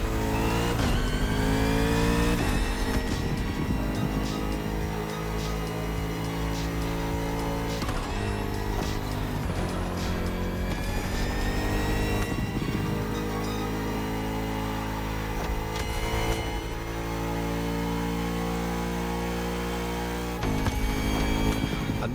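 A Bugatti Vision GT in The Crew Motorfest video game, its engine revving in steady sustained tones that rise and settle, loud and close with no talk over it.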